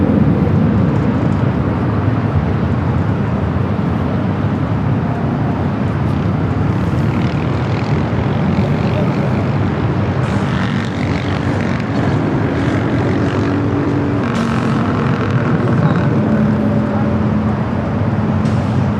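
A heavy jet airliner takes off from runway 24 left at Los Angeles International Airport, its loud, steady engine roar dominating throughout with wind-like rumble and no talk.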